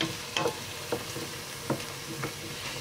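Veal paupiettes browning in a frying pan without oil, giving a soft, low sizzle broken by a few gentle scrapes of stirring at a steady unhurried pace, close by and alone.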